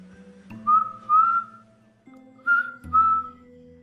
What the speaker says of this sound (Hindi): उनको ऐसा लग रहा था जैसे कोई सीटी बजा रहा हो।